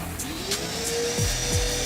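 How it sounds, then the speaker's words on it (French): Steady motorized whine of a vacuum cleaner as a worker cleans a Porsche at a car wash, a continuous close drone with a few low bumps and knocks from the hose against the car. "Armé de son aspirateur,"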